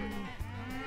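A cartoonish cow moos once, briefly, in the video game Cowmets, a short loud low call in the middle of a steady game background.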